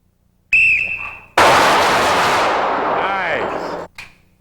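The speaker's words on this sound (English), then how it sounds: "Four shots on the whistle." At a 1996 low-light shooting practice, a sharp whistle blast signals the shooters. A loud burst of gunfire follows, its shots merging into one long reverberant roar before a short trailing report.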